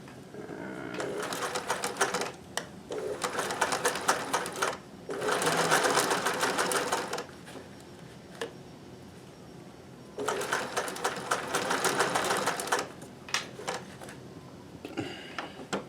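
Sewing machine stitching fabric for a handmade gift, close rapid mechanical clatter in several bursts of one to three seconds, separated by quieter pauses.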